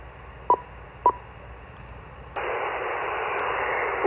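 Amateur radio reception over the air: two short tone beeps over faint static, then a sudden switch to a loud, steady band-limited hiss of an open channel carrying a weak signal.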